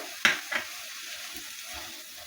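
Jaggery being stirred into apple halwa in a pan, two quick scraping strokes of a spoon near the start, then a low, steady background hiss with no talking.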